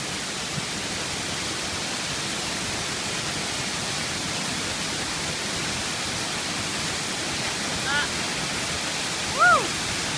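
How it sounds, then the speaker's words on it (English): Casimari Waterfall in the Daintree Rainforest pours down in a steady, dense roar of rushing water that fills the whole stretch, with a brief high squeak near the end. "This is level 6 for Casimari Waterfall."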